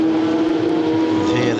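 Classic race car engine at the Le Mans Classic, firing up after a battery start into a loud, steady, rough idle heard close by, continuous throughout.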